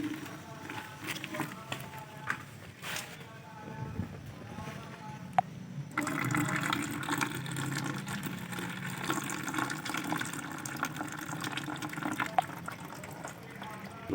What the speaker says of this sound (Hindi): इससे हम ये लिक्विड हटा रहे हैं।